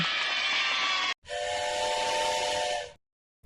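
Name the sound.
train whistle in a children's English letters game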